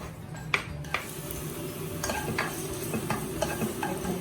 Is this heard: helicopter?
no